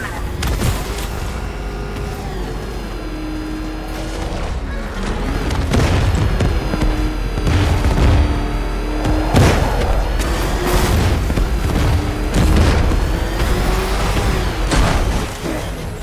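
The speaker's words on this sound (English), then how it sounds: "Warning, explosion imminent." A dense, rumbling soundscape from Batman: Arkham Knight at Ace Chemicals, with repeated heavy booms and crashing impacts over a steady low roar, loud and continuous throughout.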